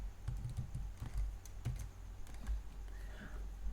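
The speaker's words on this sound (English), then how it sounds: "Now I'm just going to type #dump." A command being typed on a computer keyboard, heard as a quick, uneven run of close, crisp keystrokes with no talking.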